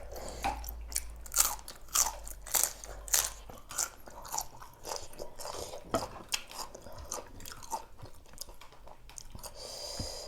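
Pounded shellfish salad, tough and chewy, eaten right at the mic: wet chewing and crunchy bites in a steady rhythm, with moist squishes and no talking.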